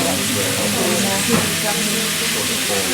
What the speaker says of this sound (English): Bring them over to the pan, just tip them in as well.